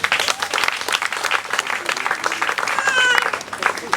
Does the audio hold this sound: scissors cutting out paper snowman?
no